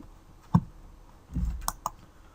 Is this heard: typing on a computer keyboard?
yes